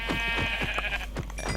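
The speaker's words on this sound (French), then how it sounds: "Encore des petits moutons." Minecraft sheep bleating in a string of short, repeated bleats over the game's ambient background, close and clear, with no talk over them.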